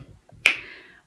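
A single sharp flick of a finger against one's own nose, one crisp snap with a short ringing tail, close and alone.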